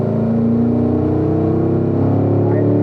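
Corvette C7 Z51 accelerating hard on a track and pulling up through the gears to fourth, a loud, steady engine roar rising in pitch close by, with no talk over it.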